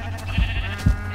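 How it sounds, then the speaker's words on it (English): Sheep bleating in the Minecraft video game, two short nasal bleats in quick succession, close and clear, with no talking over them. "Oh, sheep."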